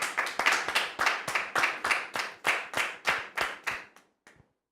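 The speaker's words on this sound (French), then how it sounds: "Sous vos applaudissements, s'il vous plaît." A single person claps rhythmically on a television studio set, about a dozen sharp evenly spaced claps close to the microphone, ending with a couple of faint final claps before silence.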